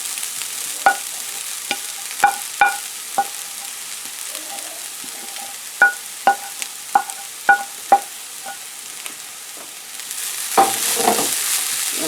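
Milk shark pieces fry with sautéed onions in a pan under a steady sizzle, with a series of sharp spoon taps and scrapes scattered through, and a burst of louder frying near the end.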